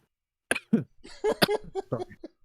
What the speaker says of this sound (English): This cough is going to be following me for months.